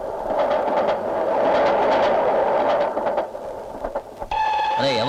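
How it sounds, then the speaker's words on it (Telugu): A train arriving at a station in a Telugu film scene, with rumbling and clattering that fades, followed by a bright bell-like chime at the end. "రైలు వచ్చేస్తుంది, ఇప్పుడు ఎలాగా?"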